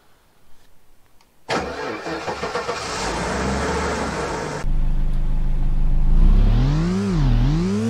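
A car engine cranks and catches after a quiet start, then settles into a steady run that rises in revs as the car pulls away, with the pitch climbing and dipping as it drives, loud and close.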